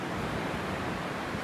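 Atlantic Ocean surf rolling onto Daytona Beach, Florida, a steady broadband wash of waves with some wind noise, continuous and fairly close throughout, with no voices.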